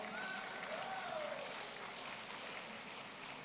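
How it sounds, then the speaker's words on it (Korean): Audience at the opening ceremony of a Korean People First convention applauds and cheers steadily as regional representatives march onto the stage, a dense, even wash of clapping and crowd voices with a few whoops rising above it. "뜨거운 함성과 박수로 크게 환영해 주세요."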